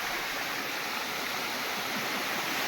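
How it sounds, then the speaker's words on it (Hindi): A babbling, step-like waterfall at Govindpur in Nawada, India, rushes in a dense, continuous hiss of falling water, close and steady with no voices. "और ये देखिए कलकल करती हुई झरना"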